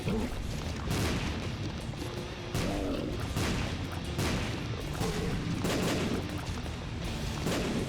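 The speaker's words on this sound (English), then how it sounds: "Yeah, the bombs fall like crazy." Bombs rain down and burst in a fast run of repeated booming blasts in The Binding of Isaac: Repentance, dense and loud over a constant game soundtrack with no pauses between impacts.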